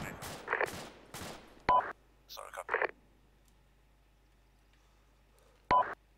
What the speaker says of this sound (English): Who's shooting, or why are we shooting?